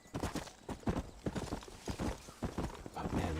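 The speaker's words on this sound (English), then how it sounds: "there's some wild horses right there, so we can catch them" Horse hooves clop rhythmically in Red Dead Redemption on Nintendo Switch, with a brief whinny and a low, steady game background behind the footfalls.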